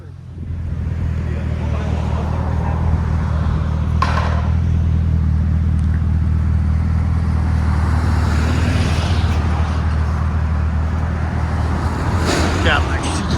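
A Cadillac CTS-V with a 6.2L V8 and modified exhaust holds a loud, steady, deep droning rumble for the whole stretch, close up, with brief voices on top.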